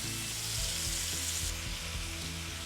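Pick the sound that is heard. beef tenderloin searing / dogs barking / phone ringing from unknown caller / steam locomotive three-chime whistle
beef tenderloin searing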